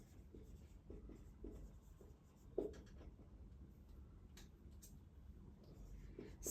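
Pen or marker writing steadily on a board or paper for a chemistry lesson, giving a soft, continuous scratchy stroking with a few sharper taps, close and quiet, with no talking.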